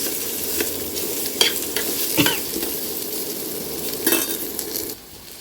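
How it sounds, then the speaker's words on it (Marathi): Cut pieces sautéing in a little oil in a pan, a steady close sizzle with scattered stirring scrapes and a couple of louder clatters, ending abruptly. "मी थोडंसं परतून घेतलं"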